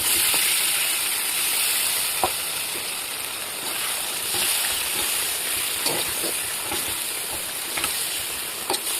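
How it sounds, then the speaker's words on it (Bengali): Chicken for a spicy chicken biryani fries in a pan with a constant bright hissing sizzle, close and even throughout, broken only by a few faint crackles and pops. "চিকেন বিরিয়ানি করার জন্য চিকেন যে ফ্রাই করে নিচ্ছি"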